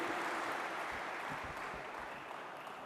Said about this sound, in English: So, another round of applause for a world-class